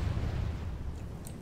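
Cannons bombard the battlefield in Total War: Warhammer during an Empire campaign: a dense, continuous low rumble of blasts and booms, loud and unbroken, with no voices.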